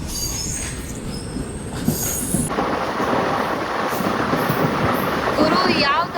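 A passenger train of ICF coaches races along at speed, loud rumbling wheels with high metallic squeals, the roar swelling midway and staying heavy and close throughout.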